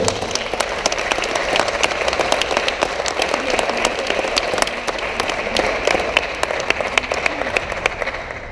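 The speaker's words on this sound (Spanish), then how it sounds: "nada más quería pedirles un fuerte aplauso para que podamos escucharlos a todos" A strong burst of audience applause at an event, loud and dense with crisp individual claps, sustained evenly throughout and tapering slightly at the close.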